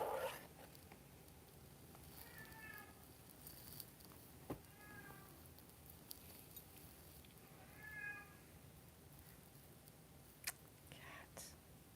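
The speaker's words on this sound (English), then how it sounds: "Cat. It's my stinking cat." A house cat meows three times, quiet and somewhat distant, in an otherwise hushed room with faint rustling and soft whispered speech.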